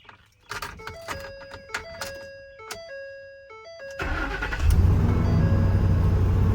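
A 2012 Ford F-350 service truck sounds a run of electronic dash chimes, then its engine cranks and catches into a loud, steady, close idle.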